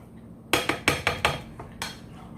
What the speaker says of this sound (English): Get those refried beans broke up. Get it all nice and mixed.